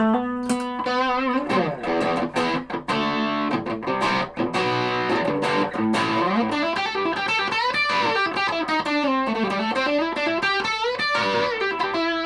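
A Squier Affinity HSS Stratocaster plays through its bridge humbucker into a Washburn Stack-in-a-Box distortion pedal. Driven chords and sustained notes ring loud and gritty, without a break, for the whole passage, with no voice.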